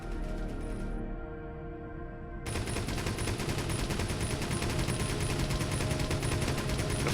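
A spaceship turret in the space game Avorion opens fire, a rapid stream of repeated mechanical shots that starts abruptly after a quieter hum and continues steadily and loudly.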